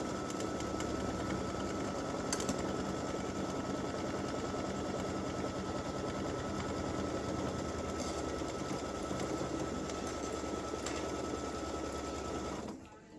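An embroidery sewing machine stitches the tack-down pass on a Valentine's Day in-the-hoop mug rug, a steady fast mechanical whir with needle clatter running nearly unbroken for about thirteen seconds before stopping.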